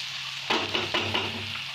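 Chopped onion sizzles and fries in hot oil over a high flame while being stirred for baingan bharta, a steady close crackle with a few soft stirring scrapes.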